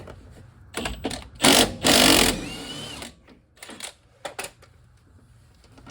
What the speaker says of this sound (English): Let's take out this shock bolt.